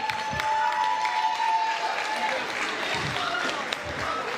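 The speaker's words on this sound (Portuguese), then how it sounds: "uma grande salva de palmas para vocês" Audience applause at a soup festival prize draw, a steady even wash of many hands clapping throughout, with a faint sustained tone early on and a few louder claps standing out.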